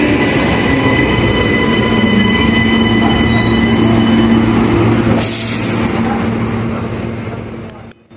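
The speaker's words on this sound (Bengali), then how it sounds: "ট্রেনের দরজা খুলে দিচ্ছেতেই উঠে পড়লাম ট্রেনের ভেতরে।" A Brisbane suburban train pulls in with a loud rumble, squealing wheels and hissing brakes, then a burst of air as the doors open before the noise fades; a voice is heard over it.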